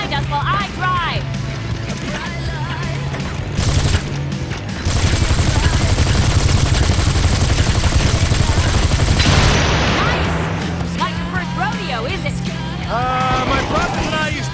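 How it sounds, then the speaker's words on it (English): Gunfire rattles from a gun in Gangstar Vegas 4 during a car chase, with rapid bursts of shots over engine rumble and game noise, while a voice talks at the start and end. "take this gun and shoot at the asshole behind us while I drive"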